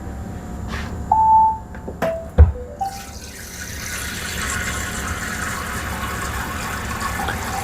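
Fresh drinking water runs from a tap for a pet's bowl in winter, a few clinks and knocks first, then a steady, soft stream of flowing water filling the container.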